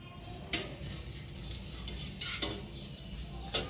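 A spoon stirs heated milk in a pot as vinegar is added to form mozzarella curds in a home kitchen, giving soft steady swishing with a few light metallic clinks of utensil against pan.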